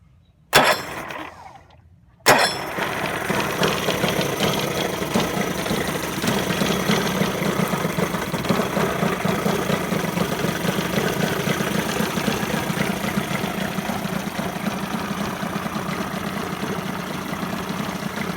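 A 1993 Evinrude 40 hp outboard motor fires up after a brief cranking burst and settles into a loud, steady, slightly rough idle that carries on unbroken at close range.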